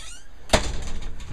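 A pop-up camper door that stows in the ceiling gives a single sharp thunk, close and fairly loud, followed by a faint rattle as it settles.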